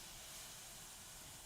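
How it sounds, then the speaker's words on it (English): Garlic sizzles in a hot pan, a steady, broad hiss that holds at an even level from start to finish with no voices over it. "The sound of garlic sizzling."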